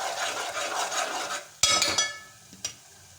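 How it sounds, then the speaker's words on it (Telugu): Onions and green chillies with turmeric are stirred in a pan for eggplant masala pulusu, with a soft sizzle and scraping followed by two sharp spoon knocks against the pan. "పసుపు కూడా వేసుకొని ఒకసారి వేయించుకుందాము"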